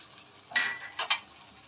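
Whole garlic cloves drop into a pan of hog plum chutney, making three short clattering clinks over a faint background sizzle.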